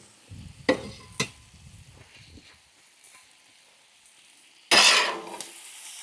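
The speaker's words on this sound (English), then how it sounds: "And mix the bacon in." Bacon gets mixed on a Blackstone flat-top griddle: a few sharp spatula scrapes and taps, then a loud burst of sizzling as food hits the hot surface, nearby and without talking.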